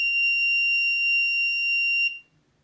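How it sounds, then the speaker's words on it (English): A PIR motion sensor's alarm buzzer sounds as one steady, loud, high-pitched electronic tone. It holds for about two seconds, then cuts off abruptly, leaving near silence. "the LED and alarm are triggered each and every time"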